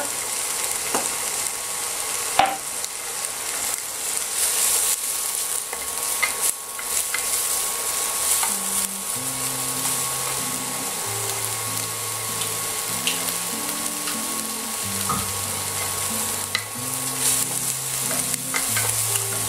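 Lamb kidneys sautéing gently in a pan with ras el hanout, herbes de Provence and garlic, giving a steady low sizzle with faint scraping of stirring throughout, no voices.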